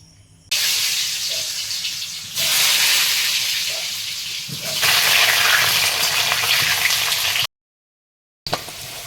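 Potatoes fry in hot oil in a wok over a charcoal fire outdoors in the Sundarbans, giving a steady broadband hiss that swells and settles in waves, cuts out briefly near the end, then returns.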